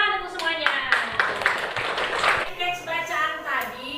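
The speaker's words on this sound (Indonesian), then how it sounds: "Tepuk tangan untuk semuanya." A classroom group claps hands during a literacy lesson, a burst of sharp irregular claps with children's voices mixed in and talk continuing afterward.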